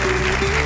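Studio audience from Puerto Real, Cádiz applauding on a live afternoon television show, a dense steady wash of clapping filling the whole moment, loud and close with no voices over it.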